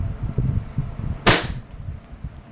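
A WE airsoft Glock 19 Gen 4 pistol fires a single sharp, loud crack during chronograph testing, and faint low handling noise runs before and after the shot.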